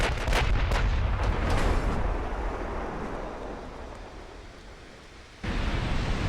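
Naval artillery firing super heavy 18-inch shells in Ultimate Admiral: Dreadnoughts, a cluster of heavy booming blasts up front decaying into rumbling noise, then another sharp onset near the end; a brief spoken word.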